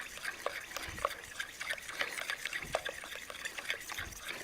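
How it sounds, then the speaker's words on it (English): Batter being stirred in a bowl for almond flour and flax seed banana bread, with coconut sugar mixed in; steady close scraping and soft wet clicks of the spoon, repeating in an uneven rhythm. "I could kind of stir this pretty good."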